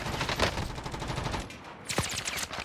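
Rapid automatic gunfire in a battle royale video game, dense bursts of shots in quick succession, loud and close, with a brief lull before a final flurry.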